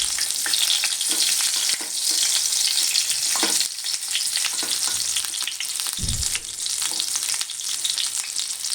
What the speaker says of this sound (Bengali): বেগুনগুলো এক পিঠ ভাজা হয়ে গেছে,